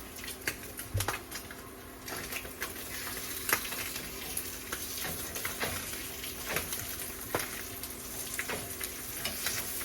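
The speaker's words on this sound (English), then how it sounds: "I'm just gonna fry the spam up and then be back" Spam fries in a pan with a steady, close crackling sizzle, and irregular pops and spatters sound throughout without a break.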